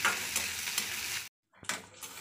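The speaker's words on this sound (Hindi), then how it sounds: "हमें प्याज को गोल्डन होने तक फ्राई करना है।" Onions frying in a pan until golden give a close, steady sizzle with faint stirring, cut off by a brief moment of silence before the hiss resumes.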